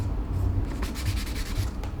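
Sheet of 600 grit sandpaper rubbed back and forth by hand on a custom snorkel for a Traxxas TRX-4 model truck, a close, soft rhythmic scratching of several strokes with no voices.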